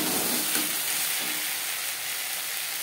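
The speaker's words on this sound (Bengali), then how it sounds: "মশলার সাথে পেঁয়াজ টমেটো ভাজা হয়ে এসছে। এভাবে খুন্তির সাহায্যে একটু ম্যাশ" Onion and tomato frying with spices in oil, a dense continuous sizzle with light scraping as a spatula mashes them in the pan for a Bengali tilapia fish curry.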